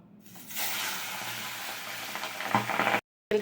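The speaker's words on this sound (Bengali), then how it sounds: "মাছগুলোকে আগে ভেজে নিচ্ছি।" Fish fry in hot oil in a home kitchen, a loud steady sizzle that swells after a brief quiet start, crackles harder near the end, then cuts out abruptly for a moment before resuming.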